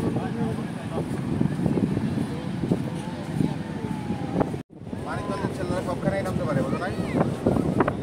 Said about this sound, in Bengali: সমুদ্রে উত্তাল ঢেউ।